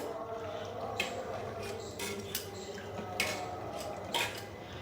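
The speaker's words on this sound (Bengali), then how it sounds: "ডালটাকে আমি ধুয়ে নিচ্ছি" Soaked pigeon pea dal being washed and mashed by hand in a metal pot, with soft watery squelching and a few sharp clinks of the pot in irregular bursts, close and fairly quiet.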